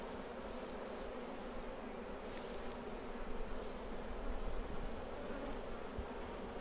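A crowd of honey bees hums inside a Flow Hive, a thick, even buzzing that stays close and constant throughout, swelling slightly midway, with no voices.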